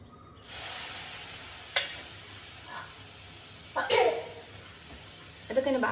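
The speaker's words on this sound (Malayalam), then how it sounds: "ഇളക്കിക്കൊണ്ടിരിക്കണം, അല്ലെങ്കിൽ അത് അടിപിടി" Food fries quietly in a pan, with a soft sizzle and a few sharper scraping stirs and clatters at intervals, close by and fairly faint.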